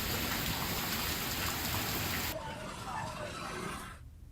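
Heavy rain pours down in Datia, Madhya Pradesh, a steady broadband hiss that shifts abruptly midway to a softer wash and then fades near the end.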